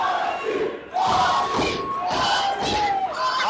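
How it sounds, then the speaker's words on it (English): A wrestling-show crowd shouts and cheers in rolling bursts, loud rhythmic waves of voices with thuds underneath, building repeatedly across the moment. "But listen to this crowd ready to mosh."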